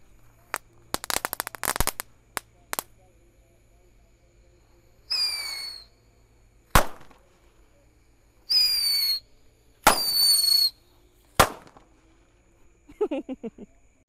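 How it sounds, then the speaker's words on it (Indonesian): Eight mercon tikus santor firecrackers lit together at night go off in separate bursts, with sharp cracks, hissing whistles and fizzing streaks spread across the stretch, loud and close with quiet gaps between. "Selanjutnya di sini ada mercon tikus santor. Kita nyalakan 8 sekaligus malam ini."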